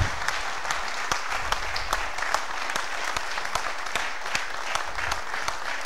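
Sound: applause

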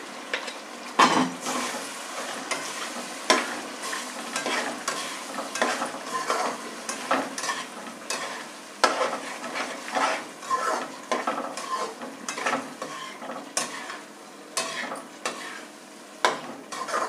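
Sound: stirring saag in sizzling pan

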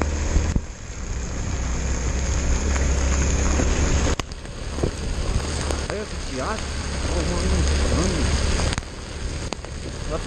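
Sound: heavy rain in flooded São Paulo

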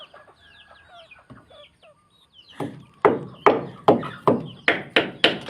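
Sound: chickens clucking

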